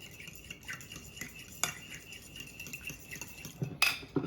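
Salad dressing being whisked together in a bowl for a Caesar salad, with faint, soft clinks of a utensil against the bowl and a few sharper taps near the end, quiet and close.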